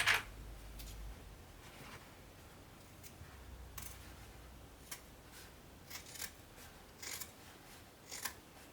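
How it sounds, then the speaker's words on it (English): Scissors snip through fabric while cutting out a sewn bag, soft scattered crisp clicks and cuts, quiet and close with gaps between them. "Then I will cut all the way down till I get to my V that I drew."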